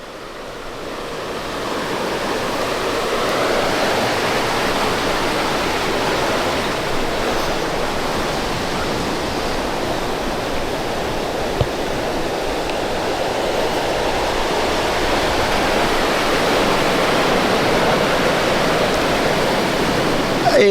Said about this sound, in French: je pense que le bruit de l'eau va m'enterrer